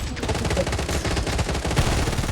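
Rapid bursts of gunfire from a video game sniper rifle, the MK 40, crackle loud and dense through the whole stretch, with a faint voice underneath.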